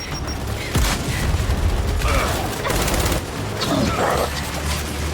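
A frag grenade blast and heavy gunfire in the video game Gears 5 combine into a loud, dense barrage of rapid shots and booming explosions that fill the whole stretch without a break.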